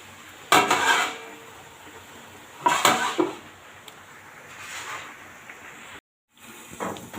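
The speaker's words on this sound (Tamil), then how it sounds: "இப்போ இதை மூடி போட்டு அப்படியே மூடி வச்சிடலாம்" A lid set down onto a cooking pot of broad bean stir-fry, clanking metal hits at intervals with a scrape and faint hiss between, close and fairly quiet, no voices.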